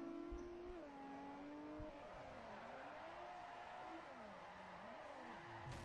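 Drift cars in the racing video game Forza during a practice run of a drift tournament: a steady, loud wash of engine drone with wavering revs and tire noise, continuous throughout with no talk.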